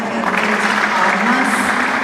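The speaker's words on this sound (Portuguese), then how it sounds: "Palmas." Audience applause at a local writers' reading at a book fair in Alvorada, a steady, fairly loud wash of many hands clapping, with a voice speaking over it.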